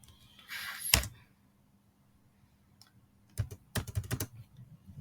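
Rapid bursts of computer keyboard typing while writing Java code, crisp close clicks clustered near the end after a brief louder clatter and a quiet pause.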